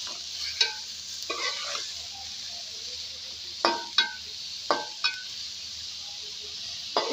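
Tomato and green chilli fry lightly in a pan, giving a soft steady sizzle broken by a handful of sharp spoon knocks and scrapes against the metal.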